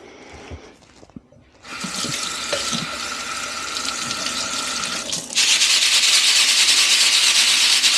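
Alocasia plant roots are rinsed under running tap water in a sink, a steady rushing stream that starts after a brief quiet moment and grows louder and fuller partway through, with some rubbing and handling noises.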